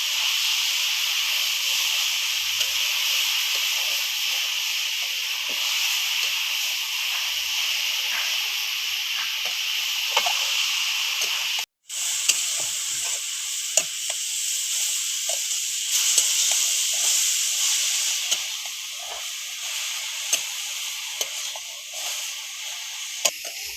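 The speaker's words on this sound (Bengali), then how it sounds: "গাজরটাকে আমি পাঁচ ছয় মিনিটের মতো পুরো বেশি আঁচে আমি ভেজে নেবো" Grated carrots fry over high heat in a pan for gajar halwa. They give a steady, close hissing sizzle that breaks off for a moment midway, then carries on with faint scattered crackles.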